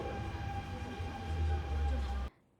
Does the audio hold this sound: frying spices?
no